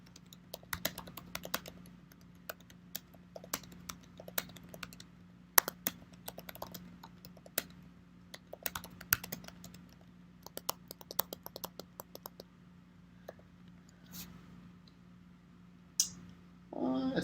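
Typing on a computer keyboard, irregular quick key clicks in short bursts over a steady low hum, fairly quiet and close, with no speech.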